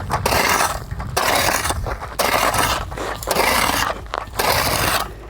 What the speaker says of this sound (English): All right, let's start digging.